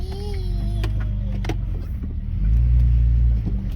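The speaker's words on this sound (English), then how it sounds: "we're just going to cruise through the woods" A Jeep cruising through the woods out of four-wheel drive, its engine a steady close rumble that swells slightly partway through, with faint creaks and rattles.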